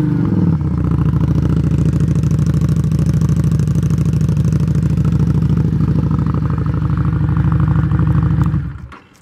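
A 2016 Harley-Davidson XG750 Street motorcycle with an aftermarket exhaust starts and runs steadily, its loud, close, throaty engine rumble holding at a constant level before cutting off at the end.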